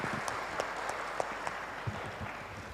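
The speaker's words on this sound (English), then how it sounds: "So join me to have a big round of applause for Dr. Helmut Schlager." An audience at an academic conference session gives applause, heard as a faint, scattered patter of claps with a few sharper individual hits over a soft, steady room hiss.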